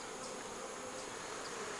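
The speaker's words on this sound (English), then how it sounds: "These bees are feisty." Honey bees swarm around a beehive with a steady, dense buzzing drone that stays fairly faint and even throughout, with no talking.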